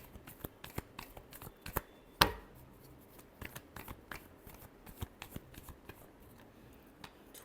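A deck of tarot cards is shuffled by hand in a rapid riffle of soft, papery flicks and taps, with one louder snap partway through, close up and without speech.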